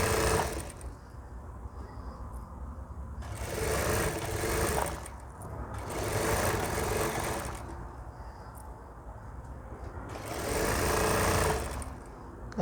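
A sewing machine stitches a double line on delicate fabric for a ladies shirt, running in three separate bursts of rapid, steady whirring with short quiet pauses between them.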